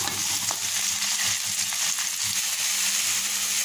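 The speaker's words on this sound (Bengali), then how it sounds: "আর এখানে যে কড়াইতে পেঁয়াজ রসুন ভাজতে দিয়ে দিয়েছি, এখন চিংড়ি মাছগুলোকে দিয়ে দেবো।" Shrimp being added to a wok-style pan where onion and garlic are already frying in oil, giving a steady, close, moderately loud sizzle with faint crackles throughout and no talking.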